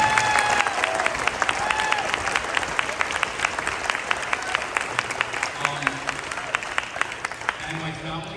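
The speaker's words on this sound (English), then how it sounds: "can we give them a round of applause?" Applause from a school band audience at a seniors' farewell event, honouring new band boosters: a sustained crowd clapping with distinct sharp claps near the front, slightly fading toward the end, no voices heard.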